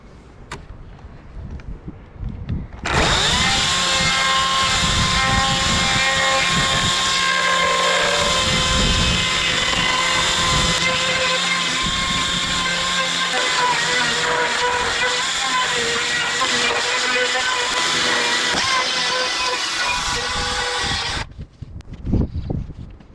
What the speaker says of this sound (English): this chainsaw just goes so fast